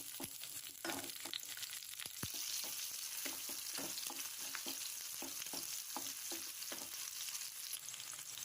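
Green chilies fry in a hot pan with a steady, close sizzle, broken by occasional stirring scrapes, for a chutney with coriander; no one speaks.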